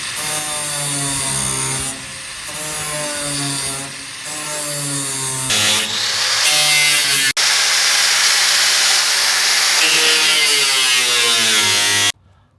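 Power saw cutting through wood inside a pizza truck during a Gozney Dome gen 2 oven install, loud and close, with several separate cuts, short pauses between passes and a long sustained final cut that stops abruptly.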